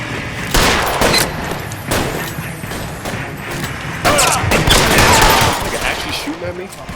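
Rapid bursts of gunfire ring out in the LA Noire video game, loud volleys and clustered shots repeating throughout, with voices shouting over parts of the exchange.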